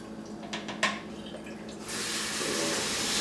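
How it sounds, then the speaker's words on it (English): Liquid, Salt's Gone mixed with water, pours steadily into a sprayer, a rushing splash that grows fuller and louder after a few light clinks near the start. "I'm going to pour that into my"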